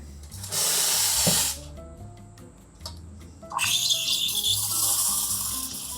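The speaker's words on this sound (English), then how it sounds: "those tiny little bits of sound that you hear are like me trying to get air into it to make a foam" Loud hissing of a steam wand frothing milk, with sputtering bursts as air is drawn in, over soft background music.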